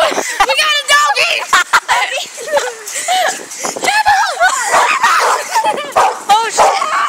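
A small dog yips and barks excitedly in quick, repeated bursts, loud and close, mixed with lively talking from several people.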